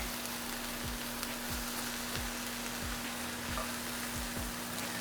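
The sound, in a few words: mushrooms and onions caramelizing in butter in a pan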